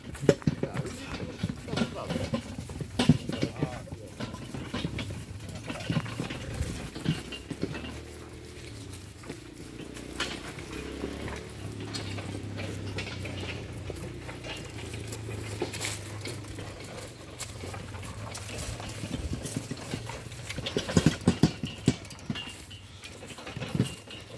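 Three mares harnessed to a cart, hooves clip-clopping in an irregular, fairly faint patter over a long stretch, with people talking and laughing nearby.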